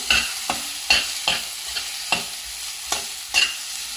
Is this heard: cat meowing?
no